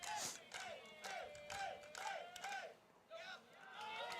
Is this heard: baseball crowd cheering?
yes